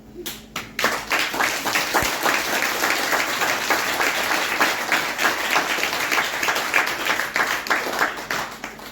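A congregation at a Christmas celebration programme claps with hands raised overhead, starting with a few scattered claps and swelling into loud, sustained, rhythmic applause from many people that lasts around eight seconds.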